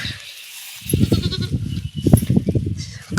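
A village goat bleats several times in quick wavering calls, close and fairly loud, after a brief quiet start.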